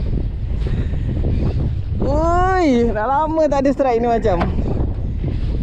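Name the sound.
strong wind at sea on a fishing boat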